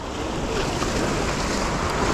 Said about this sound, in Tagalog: Malakas ang alon, pero kaya-kaya yan.